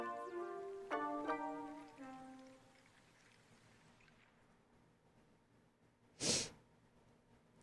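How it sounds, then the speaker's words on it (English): A single short, wet sniffle sounds near the end, loud and close, after a stretch of fading electronic tones and quiet room hiss. "sorry about the sniffles"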